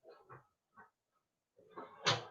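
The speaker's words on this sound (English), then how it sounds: "let me open the door" A door opening to let a pet dog named Macy in from outside: soft handling noises, a pause, then a rising rustle ending in one louder thud or bang near the end, with no talking.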